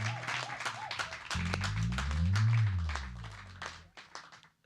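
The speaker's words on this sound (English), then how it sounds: "Please, a round of applause for him." An audience at a Broadway-style musical tribute applauds warmly for a 97-year-old man, a steady round of clapping rising and then tapering off, with a sustained musical tone and faint voices beneath it.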